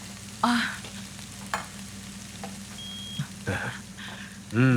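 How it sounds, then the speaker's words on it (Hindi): Rice stir-frying in a pan gives a soft, continuous sizzle with a low steady hum under it, broken by several short scraping and clattering bursts of the spatula against the pan. "अभी मैं स्टर फ्राइड राइस बना रही हूँ"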